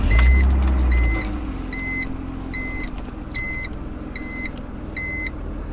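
A 2003 BMW E46 starts with a low rumble, then settles into a steady idle, while a repeating electronic chime beeps evenly about seven times over the engine.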